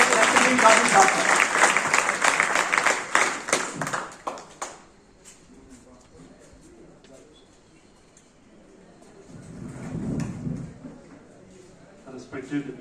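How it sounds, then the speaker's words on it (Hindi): An audience of students claps loudly to welcome a speaker at an ICDS Project Doda event, dense applause for about four seconds that cuts off into quiet room tone, followed by brief talk. "तो जोरदार तालियों से स्वागत करेंगे रेस्पेक्टेड काजी साहब का"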